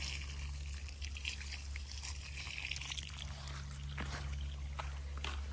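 Irrigation water trickles and pours steadily onto vegetable plants, including brinjal, in a farm field, a continuous low running flow with faint outdoor noise and no talk.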